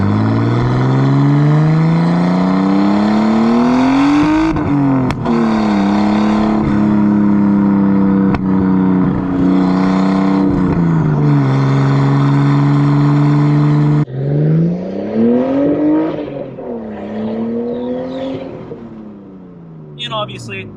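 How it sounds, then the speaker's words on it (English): A Nissan R32 Skyline fitted with a Tomei titanium exhaust revs loudly and close by, its engine note rising and falling through repeated throttle blips. The exhaust stays prominent throughout, and a voice talks over it. "Now that I have a Tomei titanium exhaust, it's really, really loud."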